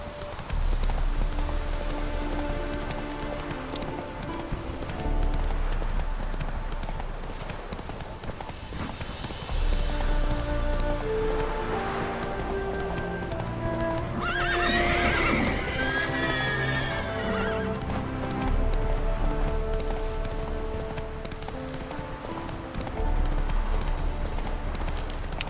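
A horse gallops in the video game The Witcher 3: Wild Hunt, its hooves pounding in a steady rhythm, with a loud neigh partway through.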